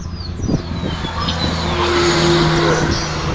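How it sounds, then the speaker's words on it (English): A truck roars past close by, its engine and tire noise swelling into a loud, steady rumble that fills the scene. "there's a truck coming by"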